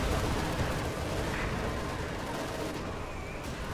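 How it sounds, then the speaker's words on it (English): Incendiary artillery fire in a Company of Heroes 2 match, heard as a dense, rumbling barrage of blasts and crackle that stays loud and steady throughout. "Oh, incendiary artillery on top of that as well."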